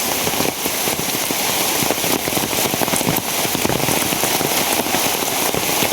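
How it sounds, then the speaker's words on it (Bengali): Heavy rain pours down steadily on an Eid morning, a loud, dense wash of drops hitting surfaces with scattered sharper splatters throughout and no speech. "প্রচুর বৃষ্টি।"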